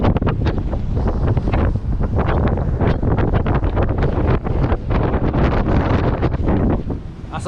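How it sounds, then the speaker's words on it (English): A sailboat battering through waves in strong wind, heavy wind buffeting the microphone in loud, continuous gusts with rushing water and slapping surf underneath. "So we're just battering through these waves."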